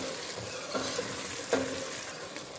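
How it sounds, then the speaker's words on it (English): Egusi soup frying in sizzling oil, stirred in a pot, gives a steady soft crackle with occasional scraping clicks of the spoon, no voices. "You can see the oil sizzling up."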